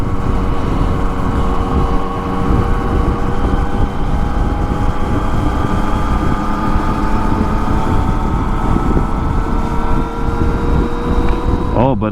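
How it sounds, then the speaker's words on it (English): A motorcycle engine running steadily on a cool night ride, heard as a constant droning hum with layered tones under heavy wind rush against the microphone, the pitch sweeping near the end as the engine revs change. "the bike is running so sweet in the night"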